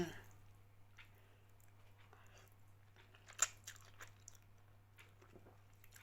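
Someone eats khanom jeen rice noodles with sun-dried pork, radish and a little salad, with soft close chewing, wet squishes and a few crunchy bites over a low steady hum.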